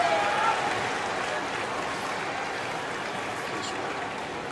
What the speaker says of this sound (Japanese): 大歓声が沸き起こった国技館。